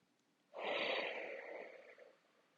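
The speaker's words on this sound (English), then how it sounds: "Just take a few breaths." A single slow, audible breath during gentle yoga practice: a soft airy inhale-exhale swelling quickly, then fading gradually over about two seconds in a quiet room.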